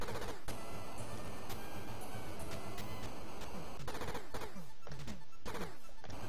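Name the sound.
gunfire in Bloody Wolf video game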